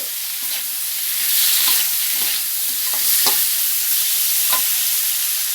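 Dried chilies and young coconut shoots stir-frying in a hot pan for a Thai shrimp basil dish, a steady close sizzle with soft scraping stirs rising and falling throughout.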